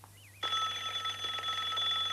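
A telephone rings with a steady electronic trill, starting abruptly and continuing loud and close without a break, with a low hum running underneath and no talking.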